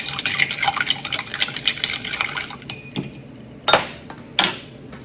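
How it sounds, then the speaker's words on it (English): Ice clinking and scraping as an all-spirits cocktail is stirred in a glass, a steady busy rattle at first, then a few separate sharp clinks after a pause, close and fairly quiet. "When you have all spirits, you're going to stir instead of shake, okay?"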